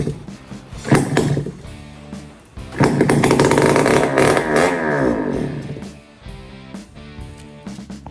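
A Yamaha PW80 dirt bike engine being brought back to life during a teardown, firing briefly, dying, then catching and running loudly for a few seconds with revving before sputtering out, plus mechanical clatter.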